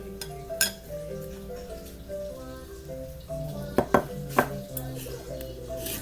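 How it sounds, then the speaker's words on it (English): Mug cake batter with milk and baking powder being stirred in a mug, soft scraping and several sharp clinks of a spoon against the mug, fairly faint and close. "Add that in slowly and mix."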